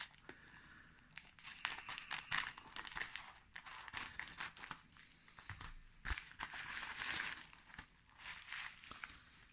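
Plastic wrapping crinkles and rustles as a mailed package holding an electronic chip is opened, a soft, steady crackling that runs close by for about ten seconds.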